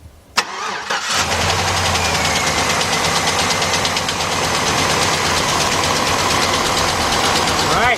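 A 2006 GMC Envoy XL Denali with a 5.3 V8 and a knocking fault cranks and fires up, then runs loudly and steadily with a dense, rattly mechanical texture close by.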